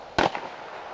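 A single sharp pistol shot at an IPSC shooting-range target, loud and close, with a brief echo trailing off into steady outdoor background noise.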